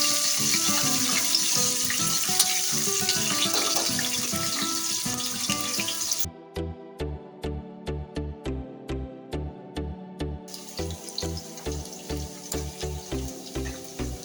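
Onions frying in a pan for lemon rice give a steady, close sizzle for about six seconds, then the sound gives way to a regular run of thumping pulses.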